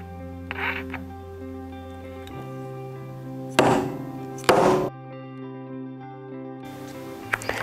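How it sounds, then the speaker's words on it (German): A setting punch and die are hammered to close a metal eyelet washer through plastic sheeting. Two loud, close thunking strikes land a second apart over steady background music. "dann die Ösenscheibe und das Ganze mit Hilfe der Matrize und dem Einschlagstempel fest zusammenhämmern"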